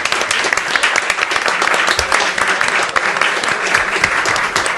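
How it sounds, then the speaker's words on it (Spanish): Loud, sustained applause from a live audience at a podcast festival recording in Argentina, dense clapping filling the whole stretch without a break. "les pido por favor un enorme aplauso para etcétera"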